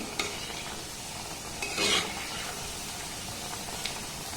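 Palm fruit pitha frying in a pan over a medium-high gas flame, a steady soft sizzle with stirring scrapes and a brief louder hiss in the middle.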